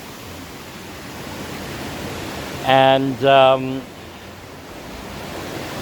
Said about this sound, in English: the water is just flowing out down the mountain